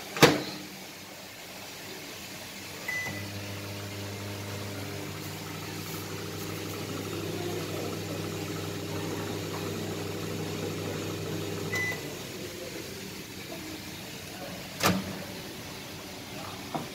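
Microwave oven running while melting nutrient agar, a quiet steady low hum with a tonal drone starting after a click, lasting about nine seconds before stopping, with faint clicks around it and no talking.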